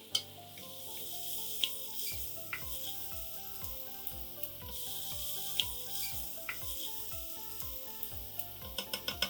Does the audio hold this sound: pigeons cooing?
no